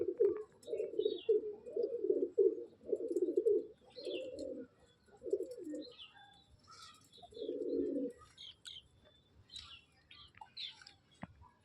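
Domestic pigeons coo in a series of soft, throaty rolling calls up close, followed by quieter scattered chirps and light rustling in the background.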